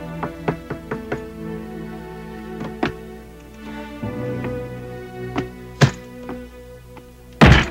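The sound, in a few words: knocking on a door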